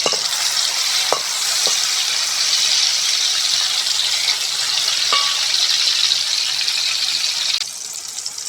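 Green chillies and garlic sizzle steadily in a pan, loud and continuous, with a few light clinks of stirring before the hiss drops slightly at the end.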